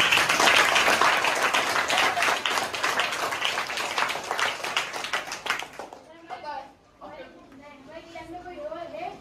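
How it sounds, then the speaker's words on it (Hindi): A small group at an informal gathering in India applauds a child with dense, lively clapping for about six seconds, then it fades out and voices talk over the quieter room. "तालियां बजाइए बच्चे के लिए।"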